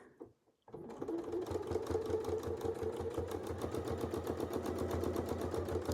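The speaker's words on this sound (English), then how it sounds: "as it stitches through, you can definitely hear the difference in that" A sewing machine stitches through a bulky quilt seam with extra folded fabric under it. After a brief quiet moment it starts up into a fast, steady mechanical rattle of rapid needle strokes that keeps going without talk.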